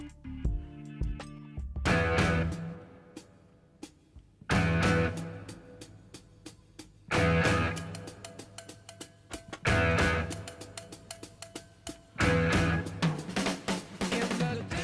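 The rock intro to a song: loud punchy drums and guitar hitting big repeated chord stabs, each followed by ringing decay, in a steady pattern.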